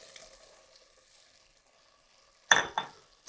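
Roughly diced onion goes into a pot of hot beef fat: near-silence, then a sudden loud hiss and sizzle that flares twice before a final clink.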